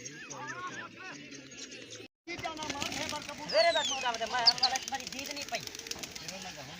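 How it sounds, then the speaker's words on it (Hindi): Racing pigeons fly and flap their wings near village coops during a pigeon-flying contest. Soft fluttering and wing claps come under continuous nearby talk, with a brief dropout partway through. "फिर आ गए कबूतर।"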